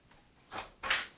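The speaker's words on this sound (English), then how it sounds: "I'm gonna open the door." An indoor door is pulled open with two short, soft scraping bursts about a third of a second apart, fairly quiet and with no voices.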